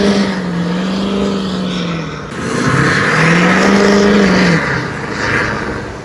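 A lifted dually pickup truck revs hard while driving, the engine note rising and falling through two long pulls, loud and close with a steady road roar beneath.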